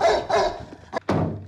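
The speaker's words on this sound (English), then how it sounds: "What's that dog?" A dog barks in two close, loud bursts, with a few shorter yaps and a thump following in a quick flurry.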